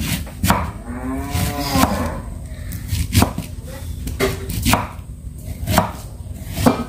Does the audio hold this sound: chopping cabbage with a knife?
yes